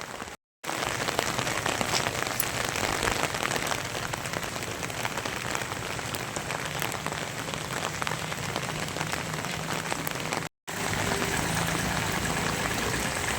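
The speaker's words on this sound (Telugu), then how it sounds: "ఈరోజు వర్షం బాగానే కంటిన్యూ అయ్యేట్టు కనిపిస్తుందని ప్రజలు భావిస్తున్నారు" Heavy rain pours steadily onto a street in Banaganapalle, a dense, continuous hiss of drops on the surface, broken by two very brief gaps.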